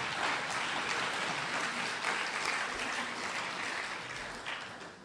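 A lecture audience gives a dense, sustained round of applause, many hands clapping loudly and evenly throughout before easing off slightly near the end.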